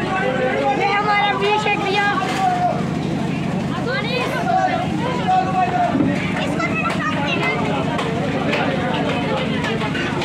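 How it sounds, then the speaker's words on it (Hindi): A dense crowd murmurs and chatters at a food distribution on Nirjala Ekadashi at a market. Many overlapping voices, including some children, form a steady, close babble with no pauses. "देखो कितनी भीड़ है यहाँ"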